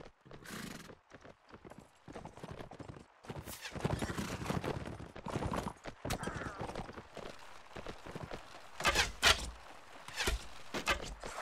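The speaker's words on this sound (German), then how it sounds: "Ich habe ein Pferd erschossen, angeschossen." Horses in the video game Mount and Blade: Warband, with galloping hoof clatter, repeated neighs and whinnies, and sharp battle impacts that may be gunfire, loud and busy with irregular bursts throughout the clip.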